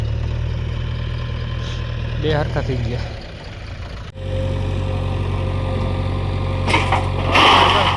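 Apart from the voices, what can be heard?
tractor engine idling while being loaded with manure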